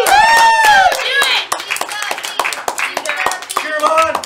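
Live game show audience clapping in uneven bursts, heard under a loud host voice that keeps talking throughout.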